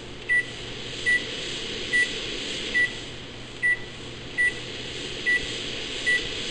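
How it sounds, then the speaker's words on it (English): Steady whooshing microwave extractor fan blower runs continuously, with a short electronic beep repeating roughly every second over the constant airflow. "we have an extractor on the microwave."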